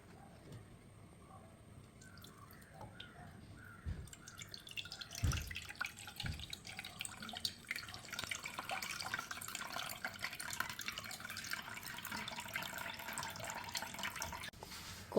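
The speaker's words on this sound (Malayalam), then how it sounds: "ഇനി നമുക്കിതിനകത്ത് വെള്ളം ഊറ്റിയെടുക്കാമേ." Water being poured and drained off freshly churned homemade butter, with drips and trickling splashes against a container, steady running liquid after a few soft knocks near the start.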